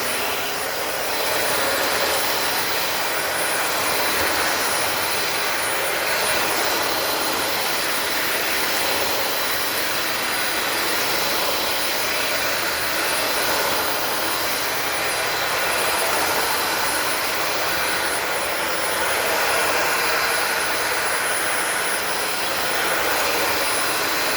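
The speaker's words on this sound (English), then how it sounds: "There's the dirt spinning in the dirt bin." A Dyson vacuum cleaner running with dirt spinning in its bin, a loud steady high whirring roar that holds without a break, close to the listener and with no talking.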